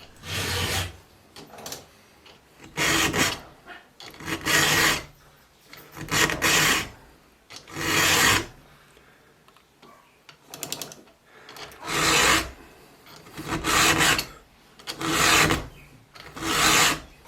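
A hand file is drawn across tool edges in repeated long rasping strokes, roughly one per second in steady rhythm, loud and close, with brief pauses between strokes and no talk, during work on 8 x 8 wooden gate posts.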